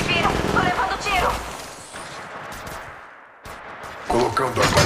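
Gunfire in the mobile battle-royale game Apex Legends Mobile, with bursts of shots crackling in the first second and again near the end around a quieter middle stretch, while a voice talks over parts of it.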